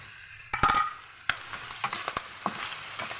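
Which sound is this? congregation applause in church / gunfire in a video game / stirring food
stirring food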